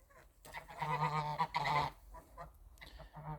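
Geese fighting honk loudly and harshly in a noisy, agitated burst of overlapping calls, close by.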